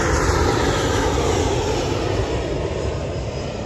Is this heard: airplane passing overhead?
yes